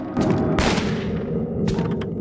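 Guns fire repeatedly at a monster in a horror survival video game, loud booming shots in quick bursts, close and dense, with no talk over them.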